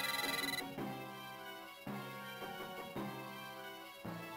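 A house phone ringing in the Over the Hedge video game on the Nintendo DS, a repeating electronic ring in several bursts with short gaps between them, heard alone at moderate volume.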